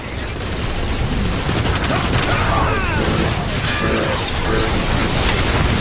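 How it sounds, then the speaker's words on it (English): Rockets and heavy gunfire roar in a dense, continuous barrage during a Transformers: War for Cybertron battle, loud and close, with game voices shouting underneath. "They're firing rockets at us!"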